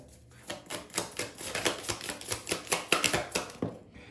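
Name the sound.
shuffling and drawing tarot cards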